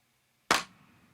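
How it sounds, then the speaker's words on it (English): A single sharp clap sample from an electronic music beat cracks out once, bright and punchy, then fades into a short reverberant tail. "And then a load of claps"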